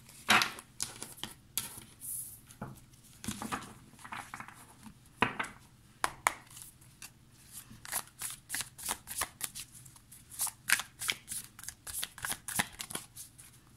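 Light Seers Tarot cards shuffled by hand at close range, a long run of quick papery riffles and slaps with short pauses, the bursts growing faster and more regular toward the end, no voice.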